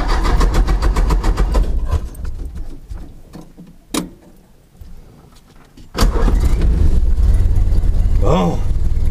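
A 1930 Ford Model A engine cranks with a sharp burst, then catches and settles into a steady, loud idle heard from inside the car, with talk at the start.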